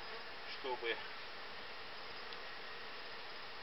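Bees buzz around an apiary hive while frames are shifted during a move into a new hive, a faint steady hum with a brief closer buzz passing by, and a few quiet spoken words.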